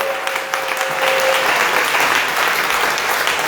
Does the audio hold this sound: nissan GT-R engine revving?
no